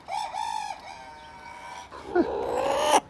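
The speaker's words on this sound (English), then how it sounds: "He still can crow, but it's just very muffled and it's more like a squeaky crowing sound." A rooster wearing a velcro neck strap crows in a muffled, squeaky, strained way, in two drawn-out calls close by with no talking.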